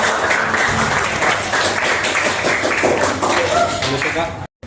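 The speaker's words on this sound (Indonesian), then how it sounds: "Ya, tepuk tangan untuk kawan-kawan." Classmates in a school classroom break into applause, a dense burst of clapping from many hands, loud and close, with voices mixed in, ending abruptly.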